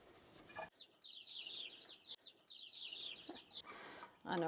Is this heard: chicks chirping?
yes